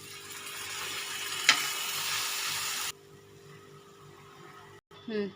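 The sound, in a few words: spinach and garlic paste frying in a pan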